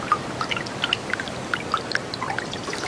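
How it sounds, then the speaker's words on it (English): Water drips from melting ice, a scatter of small, distinct plops landing irregularly over a faint watery hiss, close and fairly quiet. "Drops of water plop down from the melting ice."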